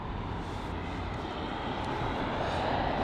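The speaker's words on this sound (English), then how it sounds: "A350-900 arriving from Taipei." An Airbus A350-900 airliner arriving at London Heathrow from Taipei produces a steady, broad jet roar that stays loud and even from start to end.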